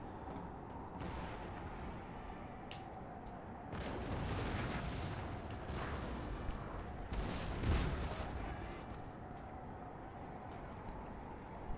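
Artillery cannon fire in the Napoleon Total War battle, a low rumbling barrage of distant booms swelling and fading under steady battlefield noise, with no clear talk over it.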